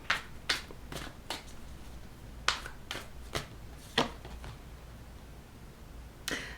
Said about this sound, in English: I'm going to continue shuffling.